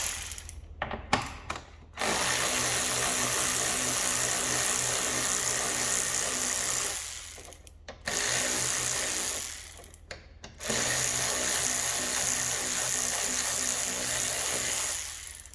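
A tool works the screws of an Alfa Romeo Giulia front bumper in three sustained whirring, ratcheting bursts, separated by short near-silent pauses, close and fairly loud.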